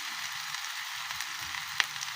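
Leafy greens with crushed garlic sizzling and frying in a pan, a steady soft hiss broken by faint stirring scrapes and one sharp clink of a utensil.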